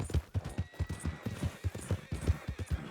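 Horse hooves clip-clop at a steady trotting rhythm in Red Dead Redemption 2, close and distinct with no voices over them.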